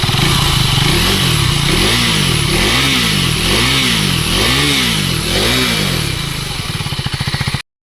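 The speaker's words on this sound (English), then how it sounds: "This is at idling." A 2024 Husqvarna Svartpilen 401 motorcycle idles close by with a loud, lumpy exhaust note that pulses in a steady, uneven rhythm, with no voices.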